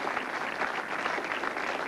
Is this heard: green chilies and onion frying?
no